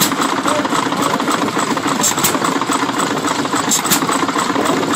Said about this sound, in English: Another motor.